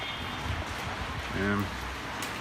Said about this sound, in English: It's raining, it's a miserable day.